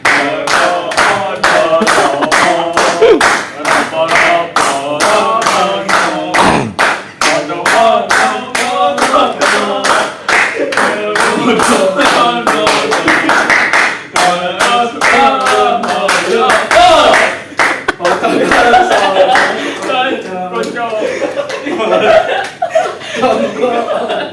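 A classroom audience claps hands steadily to keep a lively beat, the rhythmic claps running throughout alongside singing and chuckles.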